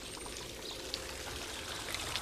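Water pours steadily through a water clock with a pendulum and escapement wheel, a continuous close stream with a few faint drips and small ticks over the top.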